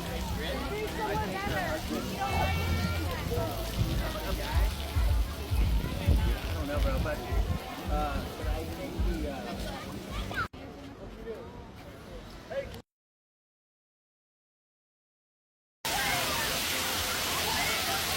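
Water splashes and rushes loudly at a cruise ship's island water park on Royal Caribbean's Wonder of the Seas, a steady churning wash of water that briefly quiets, cuts out, then resumes.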